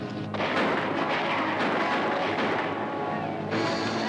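A western battle scene between cavalry troopers and Apache fighters under Geronimo fills with dense, continuous gunfire and booming shots, loud and rolling, with a brief lull near the start.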